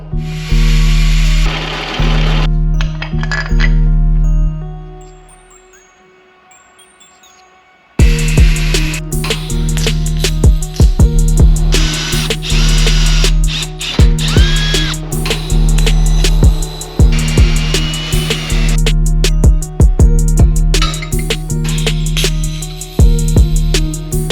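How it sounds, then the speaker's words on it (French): Metalwork on a steel engine mount, with cutting, filing and fitting sounds: loud continuous grinding and rasping with sharp clanks and taps, broken by a short quiet gap before the steady loud working resumes. "Je découpe, j'ajuste, je pointe, je te montre à quoi ça ressemble."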